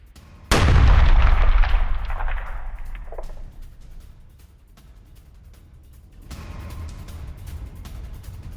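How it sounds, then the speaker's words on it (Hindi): An anti-tank mine explodes, destroying a house: a single loud, sudden blast booms out, its roar slowly fading over several seconds, followed by a low rumbling wash of debris and wind. "जोरदार धमाके के साथ घर तबाह हो गया।"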